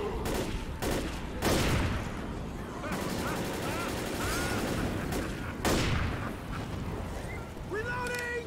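Sustained gunfire in the zombie shooter Left 4 Dead crackles loud and nearly continuous, with heavy bursts and blasts layered throughout and shouted voices mixed in.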